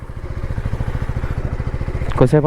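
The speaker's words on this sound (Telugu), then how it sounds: "ఇప్పుడే స్టార్ట్ చేసిన బండి." A motorcycle just after a cold start idles close by with a steady, fast chugging pulse before a voice cuts in at the end.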